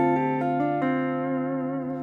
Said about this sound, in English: So the most common move that R&B players use on minor 7 chords sounds like